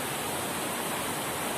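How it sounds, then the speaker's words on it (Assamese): A small waterfall in the hills gives a steady, dense rush of falling water, even and unbroken for the whole short stretch with no voices. "মোৰ পিছফালে এটা জলপ্ৰপাত দেখা পাইছে আপোনালোকে"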